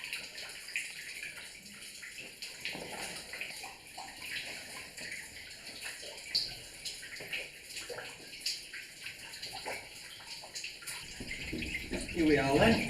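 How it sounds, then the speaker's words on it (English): Water runs and splashes steadily through old underground workings of the Ecton copper mines, a continuous close wash with scattered drip-like splashes throughout. "The atmosphere is enlivened with the sound of running water"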